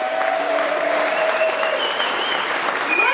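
A large crowd at a Melton Truck Lines monthly company celebration applauds in a dense, steady wash of clapping with scattered cheers throughout.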